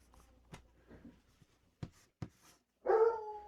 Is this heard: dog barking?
yes